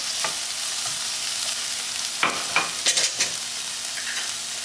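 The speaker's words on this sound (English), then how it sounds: "I'm going to add those tomatoes. Just let them get a little bit warm." Tomatoes warming in a hot pan after the heat is shut off, a steady sizzle with a few soft stirring scrapes near the end, close and alone without talk.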